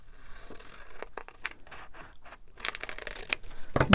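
Scissors snip through paper for large journal cards, a series of close, sharp cuts and rustles in irregular bursts, growing louder toward the end.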